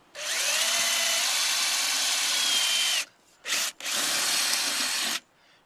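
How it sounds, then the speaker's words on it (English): Close power drill with a 3mm bit boring pilot holes in a Land Rover Freelander 2 tailgate, a steady high whine for three seconds followed by two short bursts. "So we've just put a 3mm drill in. You want to give it a bit of a push to start."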